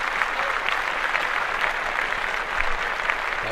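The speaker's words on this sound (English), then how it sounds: "let's clap that up for Spike" Podcast hosts and guests clap for Spike Lee, a short, steady patter of hand claps that stays dense and even, close and moderately loud throughout.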